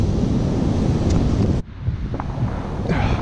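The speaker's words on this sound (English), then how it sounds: "Waves breaching." Rough ocean surf breaking on a beach at a high morning tide, a loud continuous roar of waves mixed with heavy wind buffeting the microphone, which drops off abruptly partway before the surf wash returns.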